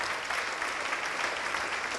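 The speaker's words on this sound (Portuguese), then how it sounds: "vamos aplaudir ao nome do Senhor" A church congregation applauding in praise, a dense, steady wash of many hands clapping at close range for the whole stretch, with no voices standing out.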